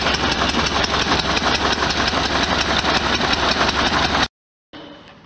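A 1973 VW Super Beetle engine idles roughly and out of balance, a loud uneven throbbing chug that cuts off abruptly near the end, followed by a brief quieter sound.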